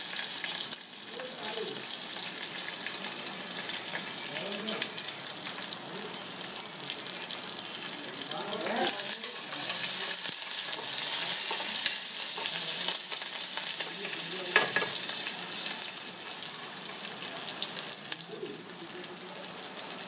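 Curry leaves and chopped onion sizzling in hot oil in a pan, a steady bright crackle throughout with occasional stirring clinks and scrapes, close and fairly loud.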